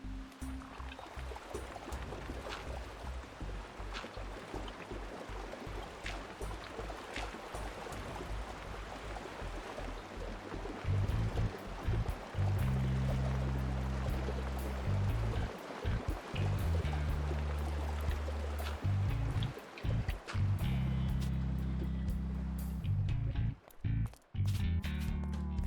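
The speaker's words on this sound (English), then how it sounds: "The sound of running water does not make me want to desperately go to the" Running water in Minecraft gives a continuous babbling, trickling stream sound throughout. Partway through, low droning tones join in and then stop with a few abrupt breaks near the end.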